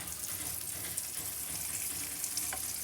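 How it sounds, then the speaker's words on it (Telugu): Dried red chillies and curry leaves crackle in hot tempering oil for a peanut chutney, a busy steady sizzle with scattered sharp pops, close and fairly quiet, with nobody speaking. "చూసారు కదా, చిట్టుపట్టలాడుతుందండి."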